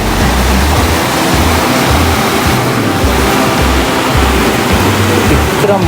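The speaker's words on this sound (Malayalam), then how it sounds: "ഇത്ര മാത്രം വെള്ളമാണ് ഒഴുകി ഇവിടോട്ട് വരുന്നത് കേട്ടോ." Meltwater from melting ice rushes in a steady, loud stream at Joffre Lake on a Canadian hiking trail, a dense, unbroken roar of water filling the whole stretch close by.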